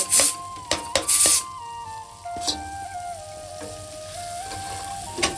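Chopped gol bhaji and kulfa greens cooking with masala, turmeric and coriander in a pan, close sizzling and frying with scraping stirs and a few sharp clatters, under a steady tonal hum.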